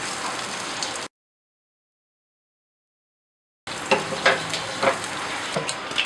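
Chopped ripe red tomatoes hit golden-brown onions frying in hot oil in a kadhai for an egg masala, giving a steady sizzle that breaks off into silence and then returns louder, with crackles and spits.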